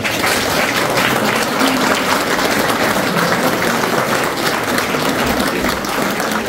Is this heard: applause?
yes